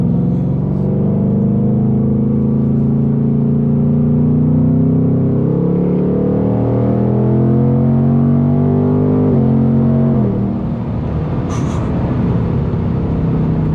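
A 2024 Mustang GT engine roars steadily under hard acceleration in hot weather, its pitch climbing through several gear pulls before easing off near the end. Loud, close, with no talking.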